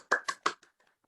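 Training participants at a team-building session clap their hands fast: three quick sharp claps followed by a few fainter scattered ones, close and alone.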